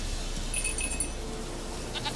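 A goat bleats in The Witcher 3 video game, a few short cries over soft game ambience, fairly faint and with no voices.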